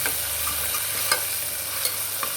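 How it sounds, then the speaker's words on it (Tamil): Paste and ingredients sautéing in a pan for a rice dish, a continuous bright sizzle with a few sharp clinks of the spatula against the pan, close up and without talk. "இதை நல்லா வதக்கிக்கோங்க."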